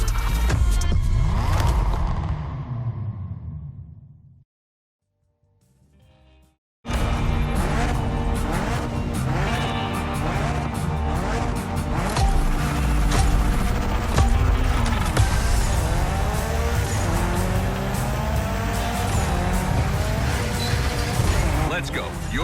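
A Mitsubishi Lancer Evolution IX tears through a gymkhana run in The Crew Motorfest, engine revving hard with squealing tires and skids, cutting out briefly before roaring back loud and sustained under occasional talking.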